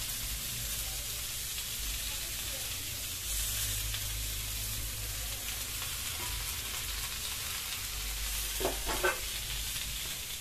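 Home-grown coconut dropped into a frying egg and potato malai curry in a pan, giving a steady, close sizzle with light stirring clatter toward the end.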